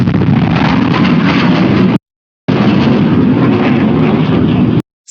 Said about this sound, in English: So listen carefully, you're gonna hear the sonic boom.